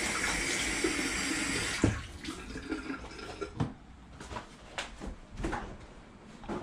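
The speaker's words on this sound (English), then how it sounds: "Wash my hands off." Water runs from a kitchen tap while hands are washed, a steady rush that gives way to splashing and a few knocks and clatters nearby.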